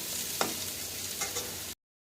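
A spatula scrapes and stirs bitter gourd frying in a pan, with a steady low sizzle throughout and two brief scraping strokes standing out, close and fairly quiet.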